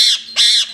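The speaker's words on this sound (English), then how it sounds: "Look at this pretty birdie. Oh, he's an angry birdie." A pet bird at a bird rescue squawks angrily twice in quick succession, two harsh, loud, close calls with a short gap between them and no talking over them.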